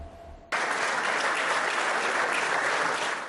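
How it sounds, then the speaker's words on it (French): Thunderous applause salutes a political career, bursting in abruptly after a quiet moment and holding as a dense, even roar of many hands until the end. "Tonnerre d'applaudissements pour saluer une carrière politique marquée par l'engagement pour la démocratie"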